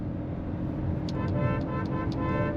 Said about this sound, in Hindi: हॉर्न देख लो, हॉर्न भी अच्छा है।